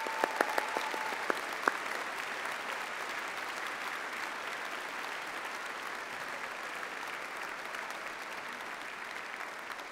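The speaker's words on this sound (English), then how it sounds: "join me in thanking them with a huge round of applause." Sustained applause from a large audience at a university graduation ceremony, steady and even throughout with a few sharp nearby claps standing out near the start.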